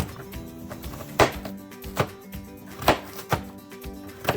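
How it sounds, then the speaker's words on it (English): A knife chops through quartered carrots on a cutting board in a steady series of crisp, close thuds, about six distinct cuts alone without talk. "So when I cut the carrots, what I do is I cut them in half and half again, so they're in quarters."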